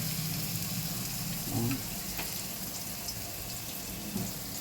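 Turmeric fries in hot oil in a pan for a soybean chana dal, making a loud, steady broadband sizzle with a couple of faint stirring bumps and no speech.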